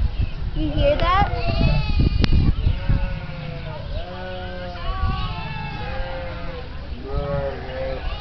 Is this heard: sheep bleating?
yes